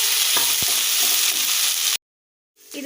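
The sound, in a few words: mint leaves sautéing in pan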